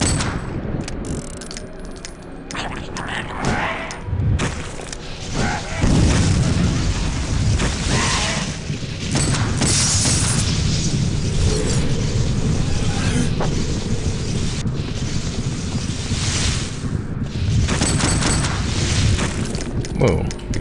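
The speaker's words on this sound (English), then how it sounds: "Whoa, the gun like did rapid fire." Gunfire in the video game Clive Barker's Undying, a dense, continuous stream of loud booming shots and bursts filling the clip, with a voice speaking over it.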